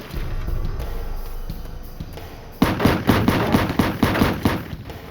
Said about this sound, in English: Muzzle bursts ripped through the night air.